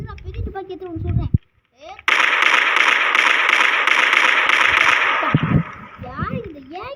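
A sustained burst of rapid gunfire in Minecraft rattles for several seconds, with a voice talking before and after.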